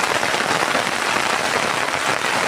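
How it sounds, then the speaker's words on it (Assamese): Steady rain pours onto open fields during the rainy season, a dense, even hiss of falling drops close by with no voices. "চাৰিওফালে গোটেই বৰষুণ।"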